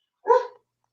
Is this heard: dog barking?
yes